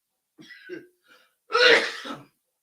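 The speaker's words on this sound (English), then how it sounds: "Excuse me, I had to cough, brothers." A soft throat-clearing followed by one loud, harsh cough, close up, then silence.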